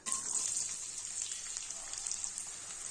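Sliced big onions drop into hot oil with fried fennel seeds, setting off a bright, steady crackling sizzle that stays busy and close throughout.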